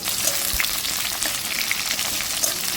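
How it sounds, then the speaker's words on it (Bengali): Onion sizzles in hot oil in a wok with dried chillies, bay leaves and cumin seeds for a potol chingri curry, a loud steady crackling fry close up with no talking. "পেঁয়াজ ফোড়ন দিচ্ছি।"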